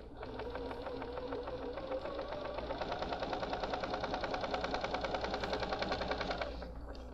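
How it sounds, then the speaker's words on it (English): A sewing machine stitches quilt half-square triangles in one continuous close run of rapid, even mechanical clatter lasting several seconds, with no talking. "continue stitching on the other side"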